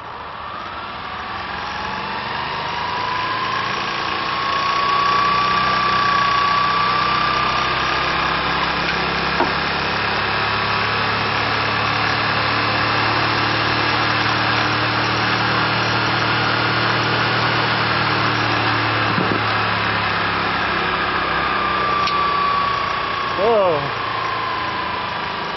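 A forklift motor mounted to a transmission with a flywheel runs at a steady, loud drone with a whining high tone that rises and falls slightly, continuous for the whole stretch, with a few clanks near the end.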